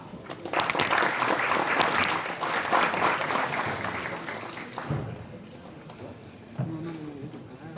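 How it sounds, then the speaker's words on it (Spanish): An audience at a university lecture hall gives a warm round of applause to welcome a speaker, clapping densely for about five seconds before it thins out and fades into room noise. "Lo recibimos con un fuerte aplauso."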